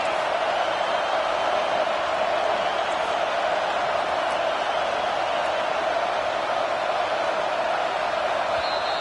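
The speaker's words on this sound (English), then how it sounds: "this crowd will blow out a vocal cord to help this defense" Stadium crowd noise in a college football video game, a dense, constant roar of cheering filling the whole stretch at a loud, even level without letting up.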